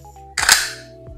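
One sharp, loud bang from a Landor 412 12-gauge shotgun rings out against a quiet background hum, a single close blast.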